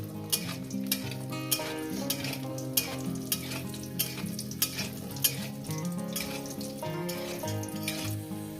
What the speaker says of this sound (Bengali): ওই বড়িগুলো আগে ভেজে নেব এটা হচ্ছে মশলা দেওয়া বড়ি